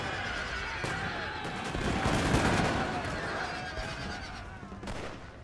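Massed musket fire from infantry lines in Total War Napoleon, with crackling volleys and a swelling battle din over about five seconds, plus a horse whinny somewhere in the mix.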